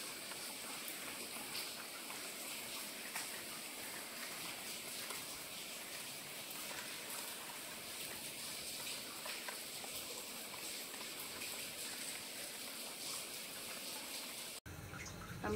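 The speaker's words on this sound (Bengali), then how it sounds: "বৃষ্টি পড়তেছে।" Steady rain falling outdoors by a small garden on a rainy day in Greece, a continuous dense hiss with no talk, cut off abruptly at the very end.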